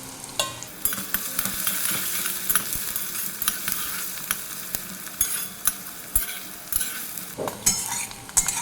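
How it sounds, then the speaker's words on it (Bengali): Onion with a dried red chilli and a green chilli fries in a pan, a bright continuous sizzle broken by repeated scraping stir strokes at a fairly regular pace, close and clear. "পেঁয়াজটা ভাজা হয়ে গেছে"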